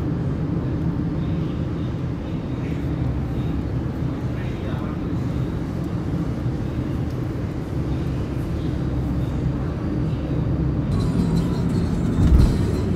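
Steady road and engine rumble from inside a car cruising a highway past Erode in Tamil Nadu, a constant close drone with no talk, a brief bump near the end.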